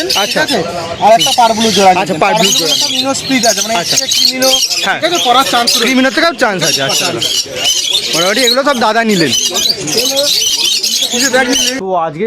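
Pet birds at the Shrirampur pet market, including rosy and pied pairs, squawk and chirp constantly and loudly all around, a dense overlapping chorus with talk underneath.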